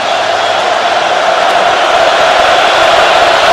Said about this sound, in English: this crowd wants to be a part of it, and Texas 2 weeks ago took the crowd out of it. They're making noise now